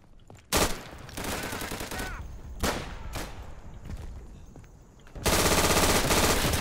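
A Bren machine gun fires in the video game Day of Infamy, with several loud bursts of rapid automatic fire separated by pauses. The final burst is sustained and heavy, and scattered game sounds fill the gaps.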